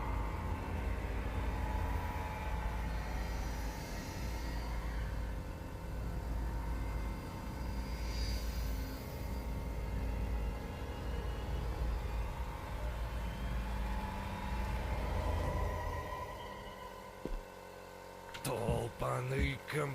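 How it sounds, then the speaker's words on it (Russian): A compressor in the video game Metel runs with a continuous low droning rumble throughout, joined near the end by sharp clattering knocks, with no voices. "Долбаный компрессор."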